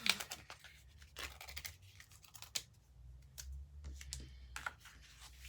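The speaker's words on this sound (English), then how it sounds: "I'm going to take my first sticker off" A sticker is peeled off its backing paper for scrapbook crafting, producing a series of close, quiet crackling tears and small scratchy rustles in irregular bursts, with no voices.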